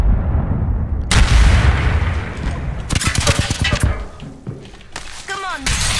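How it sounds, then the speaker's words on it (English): A grenade blast and bursts of gunfire in the shooter game Apex Legends: loud, sharp explosive booms and rapid cracking volleys, with brief voices mixed in. "Grenade."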